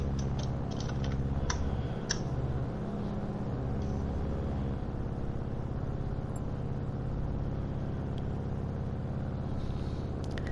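Keyboard typing clatters in short bursts of clicks during the first half, over a steady, low engine drone from a sim race at the Nurburgring.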